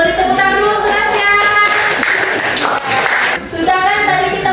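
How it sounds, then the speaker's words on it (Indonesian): Students in a classroom clap for a classmate in a short burst of about two seconds, with voices heard before and after. "Beri tepuk tangan dulu untuk Rasya"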